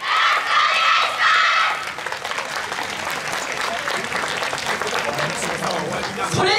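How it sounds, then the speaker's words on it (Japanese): Audience at a yosakoi dance festival performance clapping along, a loud burst of applause and crowd noise at first, then steady rhythmic hand claps with some crowd murmur. "お手拍子 よろしくお願いします"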